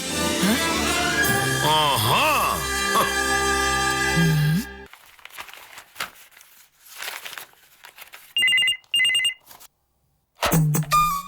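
An office telephone in a village office rings with a loud, sustained electronic tone for several seconds, then short bursts of ringing break through quieter rustling and crinkling noises.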